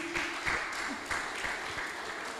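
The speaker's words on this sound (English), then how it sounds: "Let's keep clapping, guys." An audience claps at a squash tournament prize ceremony in Mumbai, a fairly faint, steady patter of hands in a hall with a few sharper claps standing out, no speech over it.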